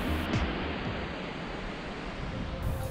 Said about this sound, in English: the waterfall is there.